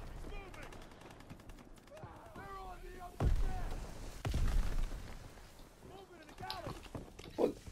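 Gunfire in the World War II shooter Call of Duty: WWII, with sharp bursts of shots and heavier booms mixed with footsteps and game noise, while people talk over the action.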